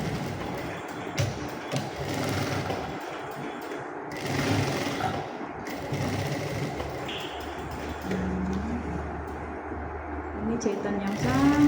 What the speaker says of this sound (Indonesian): Kita jahit bagian leher